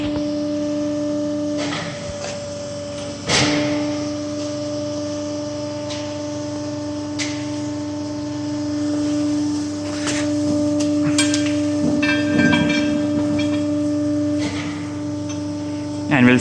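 A universal testing machine drives its jaws for a steel tensile test, producing a steady electric hum with tonal whine, punctuated by a few clunks and mechanical rattles over about sixteen seconds.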